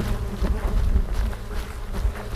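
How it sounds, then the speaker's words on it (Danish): Swarm of flies buzzing close around runners on a Danish coast-to-coast trail, a steady droning hum with pitch swells as insects pass near, continuous with no talking. "som I kan se, så er fluerne her stadigvæk"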